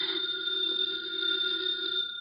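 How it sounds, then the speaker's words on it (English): An old-fashioned house telephone bell rings loud and close, a continuous bright trill that fills the moment with no talk over it. "The phone is ringing."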